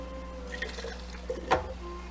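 Sauce is poured into a container, a short soft liquid pour with a brief splashy gurgle near the middle over quiet kitchen background.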